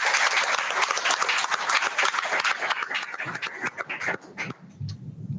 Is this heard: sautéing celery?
no